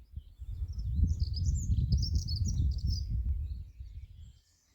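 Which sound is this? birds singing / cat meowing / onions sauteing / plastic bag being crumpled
birds singing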